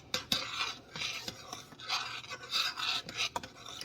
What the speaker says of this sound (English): when you stir it like this